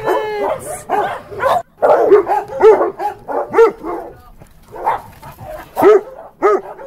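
A pack of old dogs at an animal shelter barking and yipping, with repeated close, loud barks and whiny yelps overlapping in an irregular chorus and no talk.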